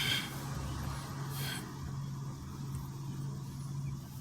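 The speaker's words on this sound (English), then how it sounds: "A lot of traffic coming by me right now." Road traffic rolling past a parked car on a downtown McKeesport street, a steady low rumble of passing vehicles with a brief hiss partway through, no talking.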